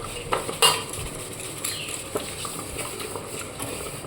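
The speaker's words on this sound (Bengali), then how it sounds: "প্রথমে একবার এই ছোবাটা দিয়ে সাবান দিয়ে ধুয়ে নেব তারপর আবার ভালো ছোবা দিয়ে ধুয়ে ধোবো" A cooking pot scrubbed with a scrubber and dish soap to lift sticky raw jackfruit sap, giving close, irregular scraping and metallic clinks with a few sharper knocks against the pot.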